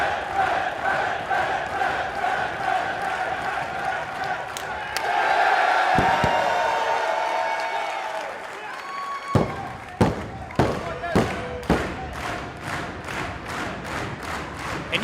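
A packed wrestling crowd at a live Warrior Wrestling event roars and chants loudly and energetically, swelling into a sustained cheer before rhythmic stomping and clapping thuds, with a commentator talking over it.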